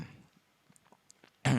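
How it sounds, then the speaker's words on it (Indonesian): A single short, loud cough bursts out at the very end after near silence, during a spoken lecture on sales budgeting. "Batuk, sorry."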